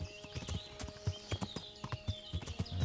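Horse hooves clip-clop at a steady walking rhythm across roughly three seconds in the medieval game Kingdom Come: Deliverance, the hoofbeats fairly close and clear against a soft outdoor ambience of birds and grass.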